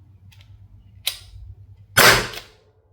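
Byrna CL launcher firing rounds, two sharp cracking shots about a second apart, the second louder and closer, each alone against a quiet background.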